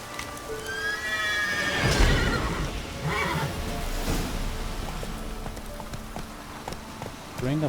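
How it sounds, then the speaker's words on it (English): A wild horse whinnies loudly in The Witcher 3, a rising neigh followed by snorts and hoof clip-clops from a restless, unsettled animal close by, with a faint voice talking briefly. "Alright, so I need to calm a wild horse."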